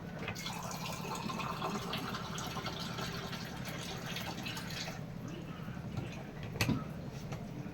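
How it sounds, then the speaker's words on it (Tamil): Sesame oil poured into a dried-fish curry bubbling in a pot, a soft, liquid trickle and dripping over a low simmering hiss, close and fairly quiet, ending in a brief clink. "இப்போ நல்லெண்ணெய் ஊற்றிடும்."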